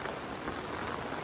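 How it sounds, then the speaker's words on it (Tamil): Heavy rain pours down in Valparai, a dense, steady patter and hiss of drops striking surfaces, close and continuous with no voices. "பயங்கரமான மழைங்க, சுவியான மழை வேற."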